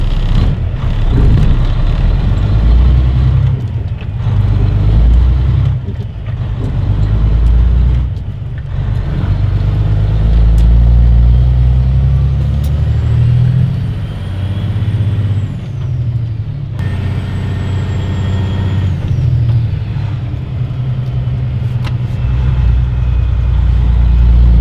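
Truck hauling a loaded trailer, its engine droning low and steady while it shifts quickly through the gears, revs rising and dropping between shifts, with a brief air brake hiss midway.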